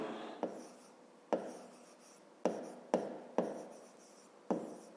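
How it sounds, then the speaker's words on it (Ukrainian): Handwriting on paper while working a grade-5 maths exercise: six separate pen strokes, each opening with a sharp tap and trailing into a soft scratch, close and quiet, with no talking. "Так і запишемо. Пишемо тоді"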